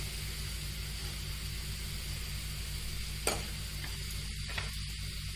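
Browned onions with turmeric, coriander powder, red chilli and salt are stirred in a pan for a stuffed capsicum filling, giving a steady sizzling fry with a brief scrape of the spoon near the middle.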